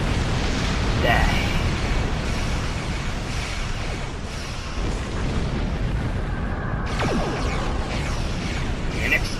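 A starship blows apart in the space game Star Trek Online, a dense rumbling blast with bursts and crackling debris under a continuous roar, while someone talks over it.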